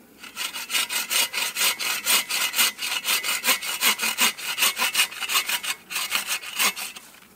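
A piece of material being sawn to length, a rapid, even run of loud back-and-forth rasping strokes, close up, with no voices.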